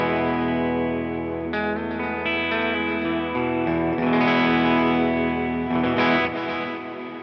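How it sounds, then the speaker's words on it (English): An electric guitar played through a Line 6 HX Stomp with a plate reverb rings out in sustained, slightly distorted chords and notes with a lush reverberant tail, no voices. "find a very basic reverb, which is the plate reverb"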